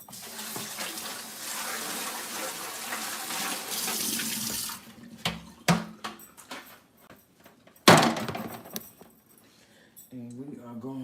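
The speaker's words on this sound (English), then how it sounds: "I'm gonna rinse my pan out one more time." Water runs from a kitchen tap as a pan is rinsed, a steady splashing rush for several seconds, then clanks and thuds of the pan being handled and set down, with someone talking in between.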